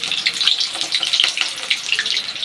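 Potatoes hiss and crackle loudly in hot oil in a home kitchen, a dense continuous sizzle close by with small pops, no voices.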